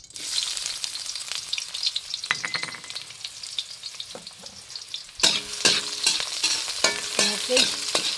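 Danggit fish frying in a pan with onion, garlic and chili, a close steady sizzle with scraping stirs and clatters that grow louder and busier partway through; no talking.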